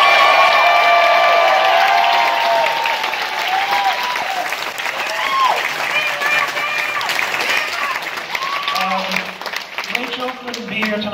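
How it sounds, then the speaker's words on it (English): Loud, sustained applause and cheering from an audience at a Los Angeles film premiere, with whoops and shouted voices rising over the clapping as it gradually thins out. "Guys, give Glenn a round of applause one more time."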